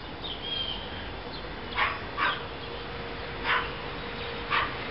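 Dogs shut inside a house during a February snowstorm in Fort Smith, Arkansas, giving four brief, faint, muffled barks or yips spaced a second or so apart over a steady hiss of background noise.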